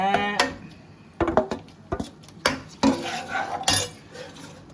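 Ginger garlic paste with garam masala goes into a pot for mutton thokku, followed by irregular close clinks and scrapes of a metal spoon against the cookware.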